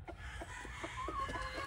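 Soft clucking from pullets and hens in a poultry breeding pen, a few short, low calls spaced irregularly over faint background noise.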